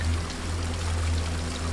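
Waterfall in the video game BarnFinders, a steady close rushing and trickling water sound with a low hum beneath, continuous and fairly loud, no voices.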